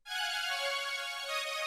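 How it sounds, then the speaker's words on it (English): A sustained, bright Vintage Synth Strings pad from Logic's Alchemy synth holds a steady chord with a rich, buzzy texture, played alone and fading slightly toward the end. "This one called Vintage Synth Strings."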